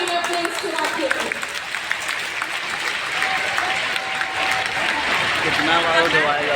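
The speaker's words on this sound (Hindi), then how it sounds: "एक बार तालियां फिर से बजाएंगे अपने इस चिराग के लिए।" A rally crowd claps steadily and loudly, and an announcer's voice carries over the applause.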